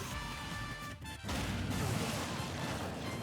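Many Smart Bomb explosions go off in Super Smash Bros. on the Mishima Dojo stage, a loud continuous rumbling blast that briefly drops out before surging back and roaring on without a break.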